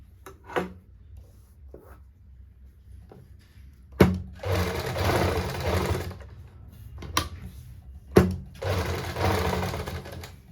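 A sewing machine stitches the neckline of a kameez shirt in several loud bursts of rapid needle clatter, separated by short quiet pauses.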